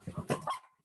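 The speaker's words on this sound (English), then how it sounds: "We have a dog." A dog gives a quick pair of short barks nearby during an online community meeting, then falls quiet.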